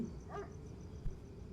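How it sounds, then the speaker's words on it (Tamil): A dog barks a couple of times in the horror game Within the Static. The barks are faint and distant, set against a quiet, droning ambience. "நாய் குலைக்குது."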